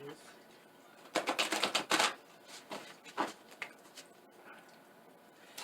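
Oracle cards being shuffled up close, a rapid flurry of riffling snaps followed by a few softer, scattered shuffles against a quiet room.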